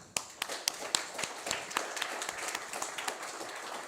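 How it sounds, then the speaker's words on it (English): Audience applause at an ocean and waters restoration conference, a scattered patter of claps that starts sparse and builds into steady, moderately distant clapping. "So please make an applause to those here."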